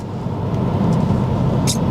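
A tuned BMW car engine pulls hard in first gear with a loud, steady low drone that rises slightly in strength over two seconds, heard from inside the car.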